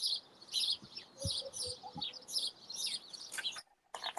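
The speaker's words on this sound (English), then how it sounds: "are those your birds I'm hearing" Several birds chirp and tweet in quick bursts, bright and fairly close, with a few low thumps mixed in before a short pause.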